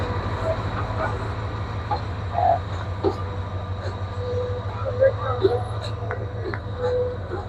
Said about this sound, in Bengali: লালমনি এক্সপ্রেস ছেড়ে যাচ্ছে নাটোর স্টেশনের 1 নম্বর প্ল্যাটফর্ম থেকে